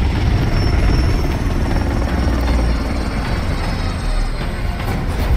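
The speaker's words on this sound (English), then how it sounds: "Victory by flying in a helicopter." A loud, steady helicopter rotor thumping with a constant engine drone in a Call of Duty Warzone video game, continuous throughout with no talking.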